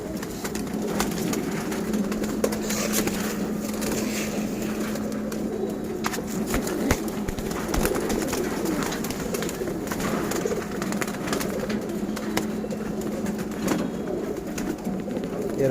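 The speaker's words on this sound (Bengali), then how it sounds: "এরা হলো নর কবুতর" Male pigeons coo steadily while eating scattered feed, giving low, rolling calls that repeat at moderate volume close by over soft background rustling, with no talking.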